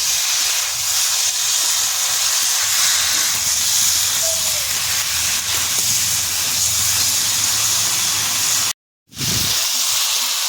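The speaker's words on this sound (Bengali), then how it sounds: "ফুলকপি আলুর সঙ্গে মশলাটা কষে নেব" Potato and cauliflower sautéing with spices in hot oil for an egg curry, a steady close sizzling hiss that runs unbroken for the whole stretch apart from one short cut-out near the end.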